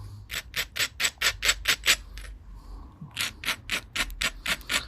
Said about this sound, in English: let me abrade it